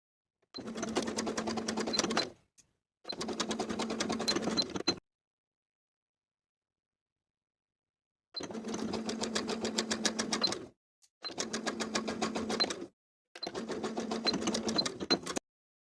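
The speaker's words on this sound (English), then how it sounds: "sewing without stretch with that same zigzag stitch" Sewing machine running a zigzag stitch to attach elastic on a bralette, five steady motor bursts of rapid stitching separated by silent pauses, with no talking.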